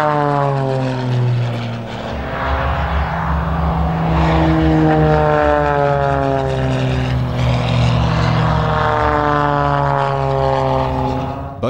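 A CT-4 propeller training aircraft flies past, its engine a loud, steady droning buzz with a strong pitch that shifts as the plane passes, filling the whole stretch without any talking.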